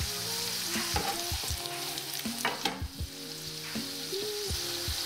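Garlic and turmeric fry in a pan with a soft, steady sizzle, broken by frequent clinks and scrapes of a utensil stirring against the pan, close by and fairly quiet.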